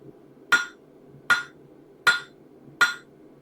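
Four evenly spaced metallic hammer blows ring out over a low background hum as a rivet head is formed on blacksmith pick-up tongs, each strike sharp and close with a short decay.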